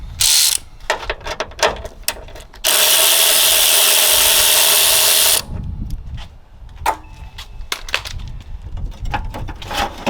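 A hand ratchet works a headlight bolt loose on a 2005–2007 Honda Odyssey, with bursts of quick clicking, a sustained rapid ratcheting run in the middle, then scattered clicks and clunks of the tool and bolt.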